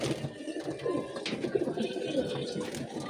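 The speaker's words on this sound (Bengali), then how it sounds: "একটা কবুতর বের হয়ে গেল।" Pigeons cooing inside a loft, soft repeated low coos layered together at close range over a continuous background murmur.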